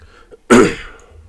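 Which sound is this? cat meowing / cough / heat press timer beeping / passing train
cough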